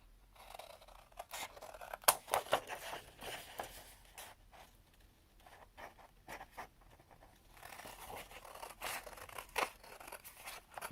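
Scissors snip and rustle through paper, cutting out a piece for a decorated glue book folio; quiet, close, intermittent crisp cuts and paper handling with soft pauses between bursts.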